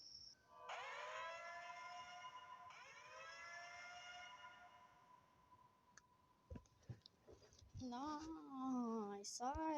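Siren Head in a horror video game wails with a long rising siren tone that sweeps up twice and holds, followed by clicks, quieter shifting tones and louder warbling siren calls near the end.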